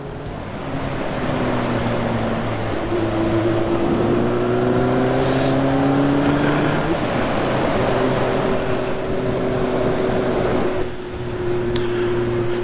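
A steady Honda Hornet motorcycle engine drones throughout while riding, its pitch rising and falling with speed, accompanied by constant wind and road noise.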